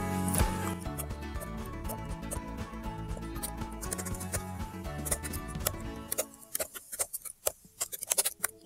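Rapid clicking of keys tapped in quick irregular bursts, close up, over a faint background hum, thinning into sparser separate clicks near the end.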